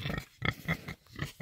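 A pig on a mountain homestead grunts close by in a rapid series of short, snuffly oinks with brief pauses between bursts.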